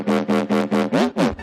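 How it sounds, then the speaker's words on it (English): Compressed, distorted synth bass layer from a dubstep remix drop, pulsing in six loud, even stabs with bending pitch on the last ones, heard alone. "Compressed, distorted layer"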